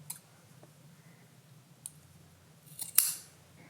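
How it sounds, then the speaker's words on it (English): Scissors snip through three macramé cord strings, a few faint clicks of the blades followed by one sharper, louder cut near the end, close and quiet with no talking. "Now you can cut all 3 of these strings"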